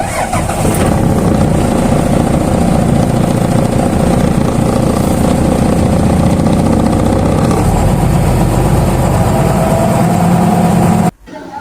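A Mahindra 10-wheel dump truck's diesel engine idles loud and close with a steady, deep rumble, then cuts off abruptly at the end.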